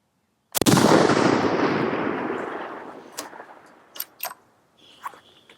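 A single rifle shot fired at a target 550 yards away cracks sharply and rolls off in a long echoing decay, followed by a few faint mechanical clicks.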